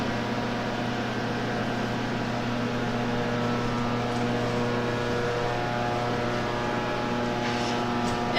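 A generator exhaust fan runs inside a nuclear launch facility, making a steady mechanical drone with strong constant tonal hum, loud and unbroken throughout.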